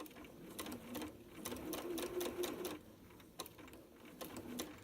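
Sewing machine stitching a quilt block, running in steady rapid bursts with brief pauses between runs, fairly close and moderately loud with no talking.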